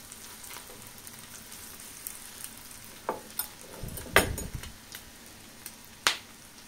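Turkish cheese borek rolls, made from lavash wrapped around cheese, fry quietly in a pan. A soft continuous sizzle runs throughout, broken by a few sharp clicks and a brief low thump as the rolls are turned.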